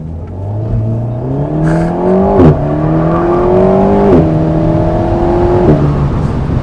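An Alpine A110 S accelerating hard on a greasy road, its engine note climbing through three gears, with brief dips at each upshift; loud, close and steady with no talking.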